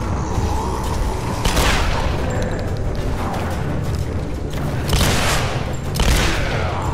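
Gunfire in the Tomb Raider video game during a boss fight: several loud, heavy shots and bursts spaced across a constant rumbling background, close and punchy, with no talking.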